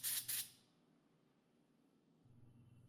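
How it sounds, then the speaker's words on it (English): Two short bursts of canned compressed air hiss loudly at the start, sprayed onto a fan inside a Glowforge laser cutter, then fade into a faint low hum that rises slightly near the end. "here I'm using canned air to spray it clean"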